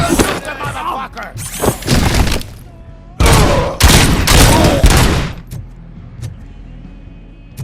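Gunfire in the video game Robocop: Rogue City, loud bursts of automatic shots in several volleys with sharp impacts and thuds, dropping to a few isolated cracks near the end, with shouting voices mixed in.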